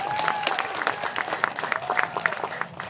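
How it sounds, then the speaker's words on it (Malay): Audience at a Parti Warisan general assembly clapping continuously, a dense, steady round of applause from a crowded hall. "Beri tepukan juga kepada Setiausaha Agung kita"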